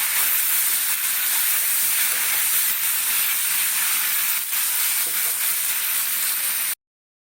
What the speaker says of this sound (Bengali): ওই তেলের মধ্যেই পটল দেব পটলটাকেও আলুর মতন একই রকম ভেজে নেব